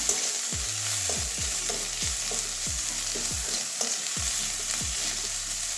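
Cumin powder frying in a pan, the soft sizzle broken by a regular series of scraping spatula strokes, roughly two per second, close and clear with no talk.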